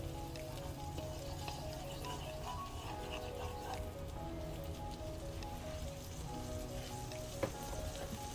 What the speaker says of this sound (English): to your pot, just go ahead and add some butter.